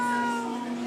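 A frightened cat gives a single loud, close meow, a short sustained tonal cry with no other sound around it.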